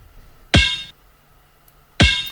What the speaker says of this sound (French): Ça fait le bruit d'une balle de basket.